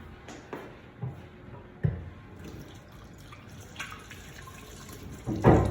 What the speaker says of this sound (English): after this is I have to wash my hands